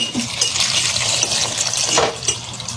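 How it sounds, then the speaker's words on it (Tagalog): Tap water gushes steadily into a cooking pot being filled for boiling, a continuous splashing pour close by with no talk over it. "Lalagyan po natin ng tubig."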